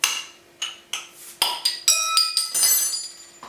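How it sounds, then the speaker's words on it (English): Repeated sharp metallic clinks as a knife strikes and pries at the cap of a beer bottle, about a dozen quick taps in an irregular rhythm, close and fairly loud. "I'm afraid I can't find the bottle opener, so I'm just using a knife."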